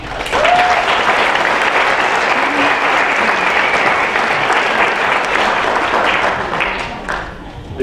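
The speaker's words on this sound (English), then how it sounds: "Please help me by clapping and bringing to the podium one of my favorite people, Robert Cabral." Warm, continuous applause from the audience at a college scholarship award ceremony, dense clapping sustained for several seconds with a faint voice and a brief tone near the start, tapering slightly at the end.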